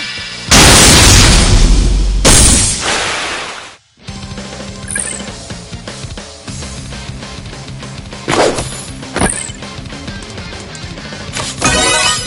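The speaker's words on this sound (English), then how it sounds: "Multiple beam launcher!" Repeated explosions from a multiple beam launcher attack in the video game MegaDimension Neptunia VIIR: a loud opening blast, a brief gap, then a dense run of booms, whooshes and sharp bursts over game music.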